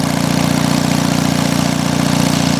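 A steady, continuous Onan diesel generator idle with a low, even rumble and faint rhythmic knocking, running alone without any voices.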